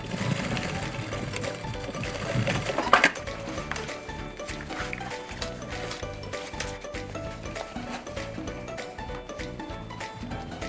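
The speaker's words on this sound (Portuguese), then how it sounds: "vou passar uma costurinha pé de máquina" Sewing machine stitching fabric pieces for a handbag, a steady rapid mechanical whirring with rhythmic clatter running continuously, close and fairly loud, with a brief louder knock early on.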